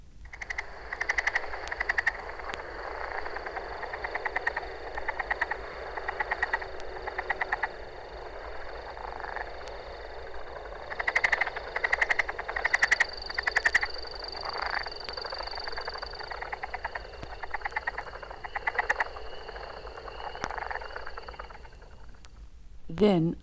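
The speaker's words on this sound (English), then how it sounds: "The southern leopard frog has a very diverse vocabulary." Southern leopard frogs give repeated chuckling calls in a steady series, with other frogs calling faintly in the background over a constant hiss.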